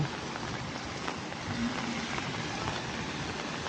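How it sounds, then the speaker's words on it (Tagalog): Steady rain falls on a Korean street, a dense, even hiss of drops close by that holds without pause and with no voices over it. "Dire-diretso ang ulan."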